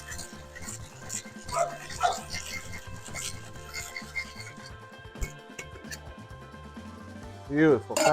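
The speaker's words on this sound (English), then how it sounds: "Dogs are going crazy upstairs" Dogs bark and yelp upstairs, faint and muffled, scattered yips coming through faint background noise, with a louder burst near the end.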